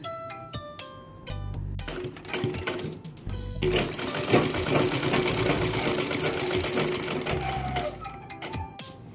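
Sewing machine stitching a blouse, running in short rhythmic bursts that break into a longer continuous whir in the middle, then stop and start again; close and clear with no talk.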